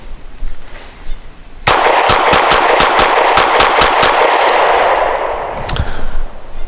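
A Springfield XDe 9mm pistol fires a rapid string of about ten sharp, loud shots close by, each followed by a ringing metallic ping from steel targets, then a brief quiet tail.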